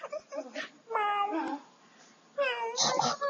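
A person's voice imitates a cat's meow, several drawn-out, high-pitched meows in quick succession, close and clear, with short gaps between them.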